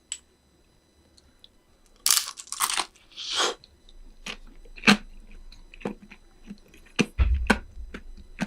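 Crunchy bites and chewing of a shrimp-filled dumpling heated in an SK Magic combination light-wave oven, several sharp crunches and moist chews close to the microphone in near silence, without talk.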